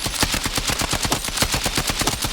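Rapid automatic gunfire from a KTS-equipped weapon in a video game firing range, fired while strafing, forms a loud, steady burst of evenly spaced shots over a couple of seconds with no voices.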